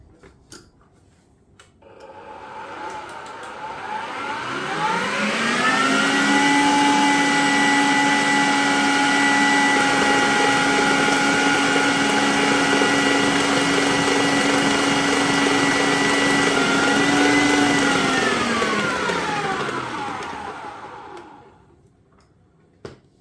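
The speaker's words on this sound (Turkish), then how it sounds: "Üzerine bir çay bardağı toz şekeri ilave edip şeker eriyene kadar karıştırıyorum." Strained labneh and sugar mixed in a bowl for no-bake tiramisu cream: a loud, steady motor whir that ramps up, holds for about fifteen seconds, then winds down to stop.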